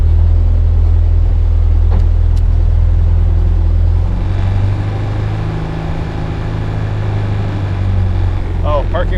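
Low, steady rumble of a 1929 Ford engine running at idle, loud and close, its tone easing slightly partway through, with brief clanks near the end.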